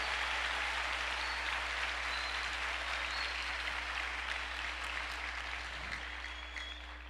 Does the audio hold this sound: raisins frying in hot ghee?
no